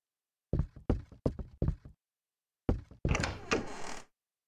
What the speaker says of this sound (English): Did the back door just open?